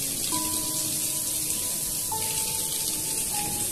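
Waterfall at the Ajanta Caves, a steady broadband rush of falling water that holds evenly throughout, with a few faint tonal sounds drifting over it.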